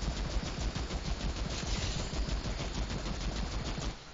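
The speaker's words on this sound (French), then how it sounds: "je vais vous tester un petit peu les dégâts de cette arme dans son tir de base" Rapid automatic fire from the basic left-click shot of a new machine gun in a video game, tested at very close range: a steady stream of tight shots runs throughout at constant loudness with no talking.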